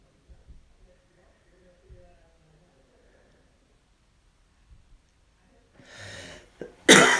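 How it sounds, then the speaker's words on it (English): A single sharp cough, lingering from a cold, bursts out loud near the end after quiet murmuring and a brief throat-clearing rasp. "Still have a tiny lingering cough from my cold that I'd had."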